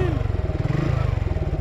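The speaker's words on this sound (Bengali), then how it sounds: "আজকে এই মুহূর্তে আমার সাথে আছে Suzuki Gixxer monotone classic plus এবং অ্যাপাচি আরটিআর এবিএস ভার্সন।" A Suzuki Gixxer Monotone Classic Plus or Apache RTR ABS motorcycle straining on sand, a loud close single-cylinder engine thumping in a fast steady rhythm throughout.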